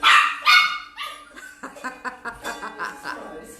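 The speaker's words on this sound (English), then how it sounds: "We've got a dog in here." A dog in an indoor tea room barks a few loud yelps, then a quicker run of shorter barks, with light chuckling and faint voices in the background.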